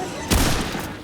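A short burst of gunfire in the co-op shooter Remnant II on PC, a sudden blast followed by a brief rattling tail.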